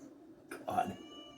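A cat meows in a short, moderately loud two-part call over quiet room noise, close to the listener.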